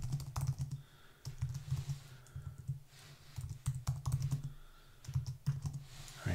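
Quiet, rapid typing on a computer keyboard while writing in the Typst editor, clusters of soft key clicks with short pauses between bursts.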